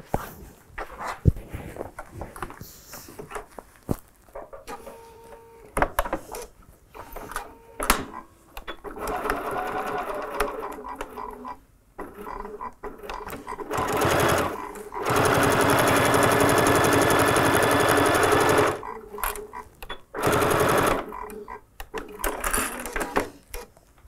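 A sewing machine stitches fabric around a curved drawn line in a seam for a fabric treat bag, running in short bursts and then one long steady whirring run, close and loud with brief pauses between.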